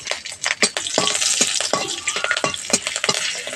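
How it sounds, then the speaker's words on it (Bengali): Black cumin seeds and green chilies frying in hot mustard oil in a wok, a steady close sizzle with crackling pops and the scrape of stirring, no voices. "ফোড়নে দিচ্ছি কালো জিরে আর দেবো 4টে কাঁচা"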